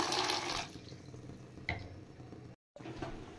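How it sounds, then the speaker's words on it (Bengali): Water poured over dried peas to soak them in a home kitchen, a brief close splashing pour that fades out, followed by a small clink. "এবার জল দিয়ে ভিজিয়ে রাখছি।"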